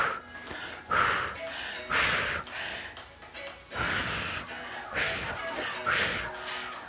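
Sharp, breathy exhalations come in a repeated rhythm of about six forceful puffs during bicep curls in a conditioning workout, close and fairly quiet.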